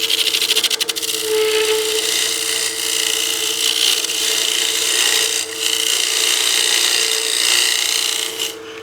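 A wood lathe turns an artifact pot while a round nose scraper works the bottom curve, giving a steady, close rasping scrape with a faint motor hum that runs continuously throughout.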